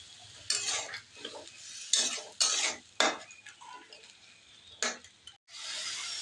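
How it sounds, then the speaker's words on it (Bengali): Spice paste with water being fried and stirred in a pan for a prawn mushroom curry, with scraping strokes of a spoon against the pan and a soft sizzle, close and uneven, with no voices. "জল দিয়ে মশলাটা কষিয়ে নেব"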